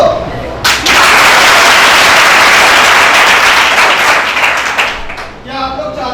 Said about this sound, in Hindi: तो सभी बच्चे मिलकर उनके सम्मान में जोरदार तालियां बजाएं।